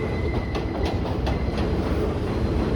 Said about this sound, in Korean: 부시익의 아파트 창문 앞에는 10분에 한 번씩 지하철이 지나갔다